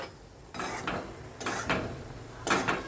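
Roasted ground bhakri flour stirred into mashed jaggery in a pan with the flame off, a spoon scraping and clinking against the metal in three separate bursts, close and moderately loud, with no talk.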